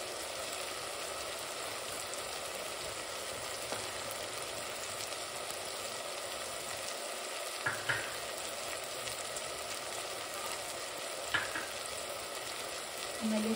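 Spices for vegetable biryani, including turmeric, garam masala and biryani masala, fry in a pan with a continuous soft sizzle and occasional light clicks of stirring.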